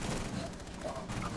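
Dense gunfire in Rainbow Six Siege, with continuous overlapping shots and rapid bursts filling the whole moment, loud and close, with voices mixed in.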